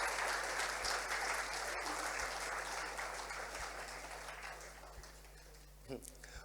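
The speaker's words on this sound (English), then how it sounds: "I would like all of us to applaud the ambassadors of both St. Lucia, the students, artists, and the artists" Audience applause for ambassadors, students and artists at a Taiwan cultural night event, a broad steady clapping wash that fades gradually over several seconds, with a low electrical hum underneath.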